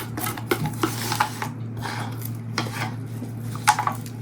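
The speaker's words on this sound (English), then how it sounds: "I'm gonna scrape out every last bit I could possibly scrape out." Resin being scraped out of a mixing cup for a freeform resin bowl, with an irregular series of scratchy scrapes and light knocks against the cup over a low steady hum, close by, no talking.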